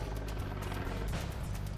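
An ICE helicopter flies overhead on aerial surveillance above a tense biker gang gathering, its low rotor drone and pulsing chop steady and fairly distant throughout.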